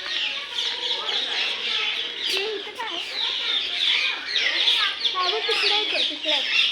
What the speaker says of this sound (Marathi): Grey parrot. त्याचा आवाज बघा कसला वेगळाच आहे।